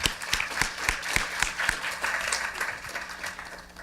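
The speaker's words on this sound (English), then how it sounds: "So if we could have a round of applause for them." A debate audience applauds, with dense clapping that rises strongly at first, then gradually thins and fades.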